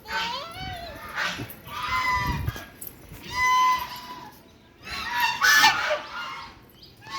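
Several geese honk repeatedly in bursts, fairly close, with children's voices and chatter mixed in between the calls.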